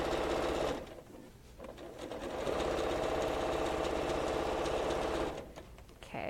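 Sewing machine stitching fabric for a baby swaddle, running in a steady rapid whir for several seconds, with a brief pause near the start and a stop near the end, close and fairly quiet.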